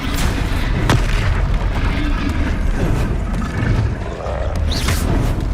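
Repeated Confringo fire-spell blasts boom in the wizarding video game Hogwarts Legacy, loud deep bursts over a busy combat din with shouted spell names between them.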